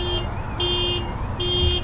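Car alarm at an RAF Waddington air show during Exercise Cobra Warrior, set off by passing jets: a steady high electronic tone that pulses on and off in three long repeating bursts over a low rumbling background.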